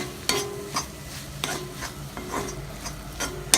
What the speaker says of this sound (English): and saute for 2 to 3 minutes.